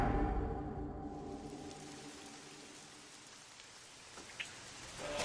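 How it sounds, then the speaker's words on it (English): Rain falls in a cartoon, a steady hiss of close, dense rainfall spattering on surfaces, loudest at the start as a musical tone fades out, with one brief drip near the end. "Here comes the rain again."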